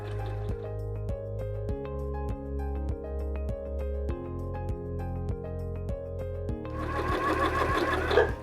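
A sewing machine runs in a steady, rapid mechanical rhythm, stitching a straight row across quilt fabric along a tape guide for cross-hatch quilting, close and continuous.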